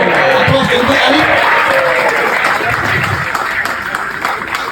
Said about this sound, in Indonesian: Aplaus untuk Alif